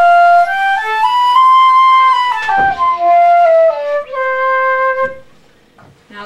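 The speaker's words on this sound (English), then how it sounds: "This is the most common flute that you'll have in your bands, and it sounds like this." C flute, the most common concert flute, in a French-style open-hole model, plays a slow melodic line of clear sustained notes stepping up and down, close and solo, ending with a short soft tail.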